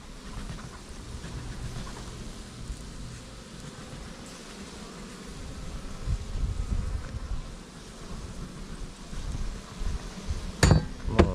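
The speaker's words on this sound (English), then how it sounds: "A lot of bees in this hive." A strong honeybee hive buzzes in a steady, dense hum outdoors, with faint rustling and a couple of sharp knocks near the end.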